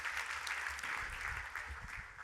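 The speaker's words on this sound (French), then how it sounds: "on peut l'applaudir bien fort" An audience at a Paris technology conference talk applauds in a short, steady burst of clapping.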